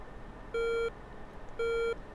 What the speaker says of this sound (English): as things popped onto the display, it played the singular beep